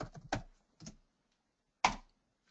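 Typing on a computer keyboard while taking notes in a staff meeting page, a few soft clicking keystrokes in short clusters separated by quiet pauses, close and faint.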